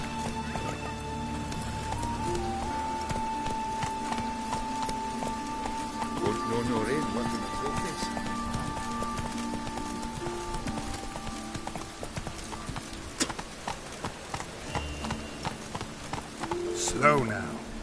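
Roach, the horse in The Witcher 3, gallops with a steady clip-clop of hooves over a continuous game soundscape, while a voice speaks intermittently.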